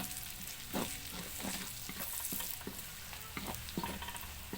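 Onion and garlic frying in a pan for ginataang santol, steady crackling sizzle with a spoon scraping and stirring in short bursts, close and continuous.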